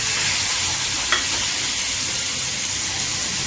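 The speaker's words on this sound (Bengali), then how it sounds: "সেটাকে সমস্ত মশলার সাথে একটু ভেজে নেব" Chopped tomato sizzles with spices, onions, ginger and garlic in a pan for chicken bharta, making a loud, steady close-up hiss broken by one faint clink.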